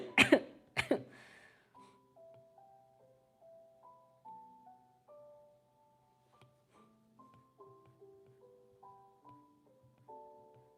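Two harsh, close coughs burst out at the very start, then soft, sustained melodic tones play alone without them.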